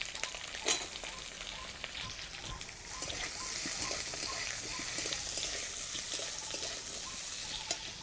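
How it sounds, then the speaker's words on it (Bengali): Capsicum, onion and tomato fry lightly in ghee in a pan, a steady close sizzle running throughout with occasional stirring clicks. "এগুলো একটু হালকা ভেজে ওই ডিমের মধ্যে দেব"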